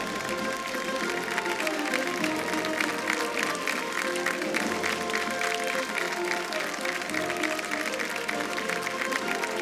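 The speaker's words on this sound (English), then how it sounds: "Let's have a huge round of applause," Audience applause at a film festival awards ceremony fills the hall, a steady dense wash of many hands clapping at even loudness throughout, with no talk over it.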